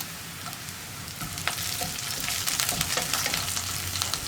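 Curry leaves dropped into hot oil with onions set off a continuous crackling sizzle that swells and thickens over a few seconds, close up with no talking.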